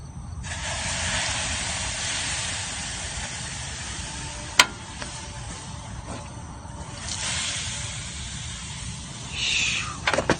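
Water poured onto the hot brake hub and rotor of a Ford E-350 cutaway, giving a continuous steamy hiss that rises and falls, with a sharp metallic clink partway and faint clatter near the end.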